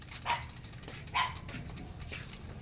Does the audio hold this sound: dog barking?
yes